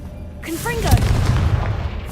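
A Confringo blasting spell in Hogwarts Legacy lets out a swooping rising whistle, then one loud, booming burst that rumbles briefly away.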